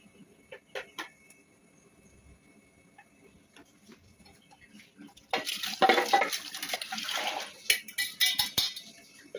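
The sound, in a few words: rinsing the mixer jar and pouring the water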